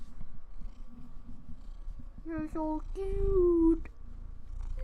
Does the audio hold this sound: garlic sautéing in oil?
no